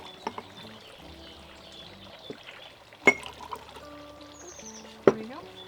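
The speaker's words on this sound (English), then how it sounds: "we're going to add in 2 ounces of Malibu" Malibu rum is poured into a layered rainbow cocktail, a short liquid pour and trickle set among clinks of glass and bottle, with a few sharp knocks and quiet background sounds.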